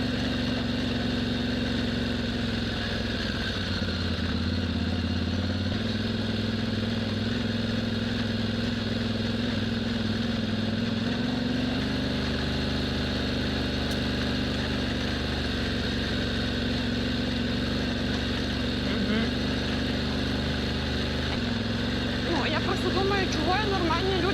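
A Yamaha Tenere 700 motorcycle rides off-road, its engine holding a steady, close drone throughout that rises and falls with throttle changes. A rider speaks over the engine noise.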